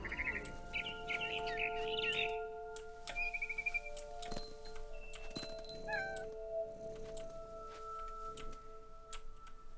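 A barn swallow in What Remains of Edith Finch gives bursts of chirps at first, then scattered calls, alongside meow-like cries and sharp ticking clicks over a quiet hum, with no talk.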